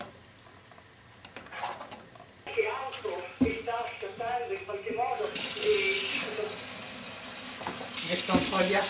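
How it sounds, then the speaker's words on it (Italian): Cold water runs from a kitchen tap into a sink while farfalle pasta is drained, a steady splashing rush with bursts of brighter spray, heard under a person talking. "Metto un po' di acqua fredda e scolo."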